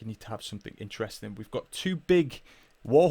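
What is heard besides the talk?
No everyday noises stand out.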